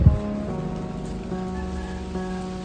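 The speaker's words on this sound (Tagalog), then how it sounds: "Ayun na, umaambon na, guys." Light drizzle beginning to fall outdoors, a steady soft patter of raindrops on surfaces with faint background hum, even and continuous without talk.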